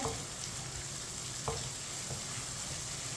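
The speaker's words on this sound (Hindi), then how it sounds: "प्याज को मिक्स कर लेंगे। प्याज को हल्का सा ब्राउन कर लेंगे।" Chopped onions sizzling and being stirred in a pan over medium heat until light brown, for aloo palak; a steady close frying hiss with a few spoon scrapes and clinks.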